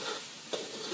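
Garlic sizzles steadily in a pan over medium heat while it is stirred, making an even, close frying hiss with one brief scrape partway through.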